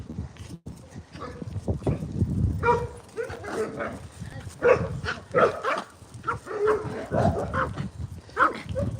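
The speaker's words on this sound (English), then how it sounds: "We've got some people coming that we know coming the other way with some dogs" Several dogs bark and yip in repeated bursts during an evening walk, fairly close and loud, mixed with people talking.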